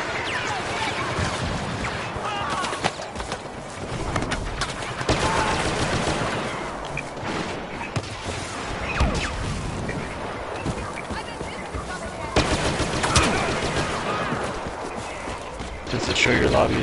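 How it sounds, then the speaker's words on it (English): Rapid bursts of blaster gunfire and explosive launches in a Star Wars Battlefront match, loud and repeated in clusters, with a player talking intermittently over the fighting. "I'm gonna launch a missile at him."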